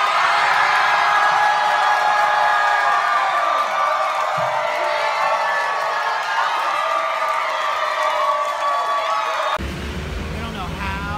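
A large crowd cheers and whoops at a show in Helsinki, loud and continuous with dense babble throughout, until a sudden cut near the end.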